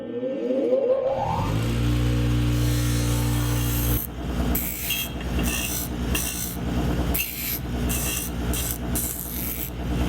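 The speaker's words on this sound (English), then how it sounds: "I'm going to use the bench grinder" A bench grinder rounds over a metal hinge: the motor whines steadily at first, then gives way to a loud, continuous rasping grind broken by short gaps as the piece is pressed to the wheel.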